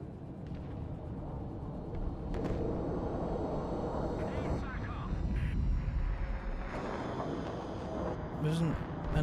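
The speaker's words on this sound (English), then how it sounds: "But I can't hear anything because of these fucking planes." Aircraft engines drone overhead in a video game, a low, continuous roar that swells and fades slightly, with a voice talking over it.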